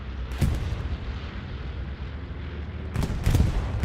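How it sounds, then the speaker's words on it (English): A bombing run striking a half-track in the video game Hell Let Loose, heard as two heavy booming blasts several seconds apart over a constant low battlefield rumble, the second blast longer and doubled. "This bombing run will take out the half track, certainly, and it does indeed"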